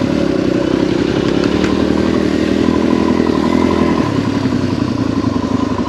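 A Yamaha WR250R or TT-R250 dirt bike on an adventure ride with river crossings runs close and loud, its engine chugging in a rapid rhythmic pulse with clattering mechanical noise, easing slightly toward the end.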